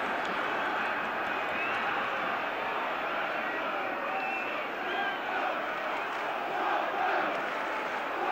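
Tottenham Hotspur supporters roaring after a goal in a 1972 UEFA Cup semi-final first leg against AC Milan, a dense, sustained stadium crowd cheer filling the whole stretch at steady loudness.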